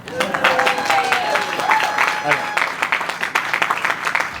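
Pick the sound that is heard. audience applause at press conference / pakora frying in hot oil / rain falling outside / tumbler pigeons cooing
audience applause at press conference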